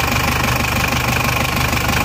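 Motorcycle engine with worn piston rings, blowing smoke, running loud and close with a rapid, even knocking pulse over a steady mechanical drone throughout.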